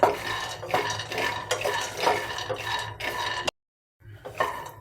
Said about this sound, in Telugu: ప్యాన్లోనే మనం ఇప్పుడు పల్లీలు వేయించుకుందాము